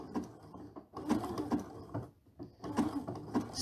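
A sewing machine stitching down appliqué fabric, running in short rhythmic bursts of rapid mechanical stitching separated by brief pauses, close and moderately quiet.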